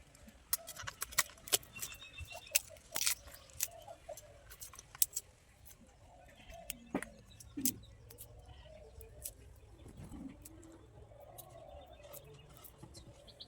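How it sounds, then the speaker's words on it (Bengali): Onion being chopped and garlic cut with a knife in a home kitchen: irregular sharp taps and clicks, close and fairly quiet, over a faint background with occasional bird calls. "এবারে পেঁয়াজ কুচি করব। রসুন কেটে নেই।"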